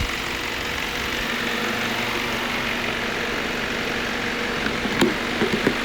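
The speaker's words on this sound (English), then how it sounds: "There goes the fans working again." Cooling fans whirring on a 2001 Volkswagen Beetle, a steady broadband rush over the engine's low running hum, with a few light knocks near the end.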